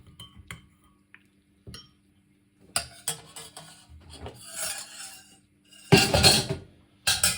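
A spoon stirs half a teaspoon of honey into a clove and lemon drink, giving scattered clinks and scraping against the cup, with sparse taps early and denser rubbing stirs toward the end, close and moderately loud.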